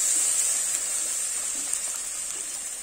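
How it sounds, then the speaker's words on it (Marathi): Water poured into a pan of sautéed spring onions over a wood-fired clay stove, a steady loud hiss and gush held throughout, slowly easing toward the end with no talking. "कांद्याची पात परतल्यानंतर यामध्ये आपण आता पाणी घालणार आहे"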